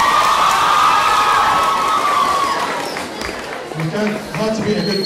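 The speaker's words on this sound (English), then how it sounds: "Round of applause for Abby, please." School talent show audience cheering and clapping for a performer, a loud crowd roar with shouts and whistles, then a voice speaking over the fading noise.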